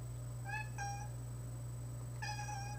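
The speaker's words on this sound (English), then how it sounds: "Sorry, that's my cat." A house cat meows three times, with two quick cries close together and then a longer meow after a pause, moderately near over a steady low indoor hum.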